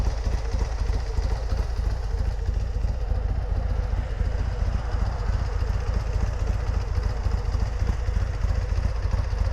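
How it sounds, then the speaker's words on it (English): A motorcycle engine fitted with a Fuel Moto 124 big bore kit and S&S 475 cam idles roughly, a close, loud, lumpy uneven rumble running steadily without pause. "And you can see how rough that idle is."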